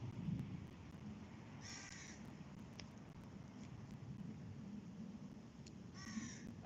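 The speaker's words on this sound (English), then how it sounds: "What are them crows going on about?" Crows caw outdoors in two distinct bursts of several harsh calls each, moderately distant, over a constant background hiss.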